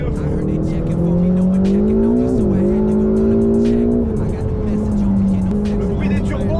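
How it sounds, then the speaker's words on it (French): A smoking Ferrari engine runs loud and continuous with turbo whine, its pitch rising and dipping slightly, close and steady throughout, with voices murmuring underneath. "Le bruit des turbos en plus derrière."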